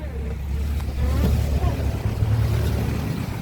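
A car radiator cooling fan spins with a steady whooshing rush, heard close up and continuous, with faint voices in the background.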